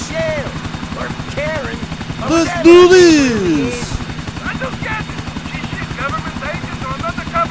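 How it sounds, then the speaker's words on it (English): A loud helicopter rotor in the video game Grand Theft Auto IV chops steadily throughout, with a brief voice speaking over it partway through and swooping electronic tones rising and falling. "I mean helicopter. Can't you hear it? He's very loud."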